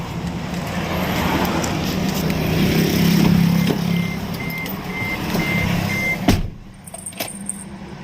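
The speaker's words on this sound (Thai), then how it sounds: "ก็แล้วฟังเสียงตาร์เครื่องยนต์นะครับ" A car engine cranks and runs steadily nearby, with intermittent electronic beeps, then cuts off abruptly, leaving a quiet pause.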